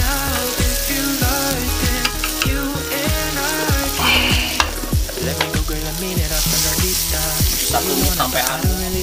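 Onions and chili frying in a hot pan, a loud steady sizzle with rhythmic scraping and stirring strokes of a utensil throughout, close and continuous with no talking.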